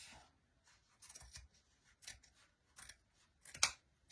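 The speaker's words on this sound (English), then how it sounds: "Now I'm going to cut some extra fabric off" Scissors cut away excess fabric from a canvas wall art piece, several separate close snips spread across the clip, the last one the loudest, with quiet gaps in between.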